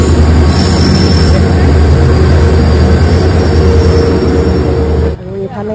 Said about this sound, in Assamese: এইফালে ইয়া চাওক আমাৰ ট্ৰেইন আহি পালেহি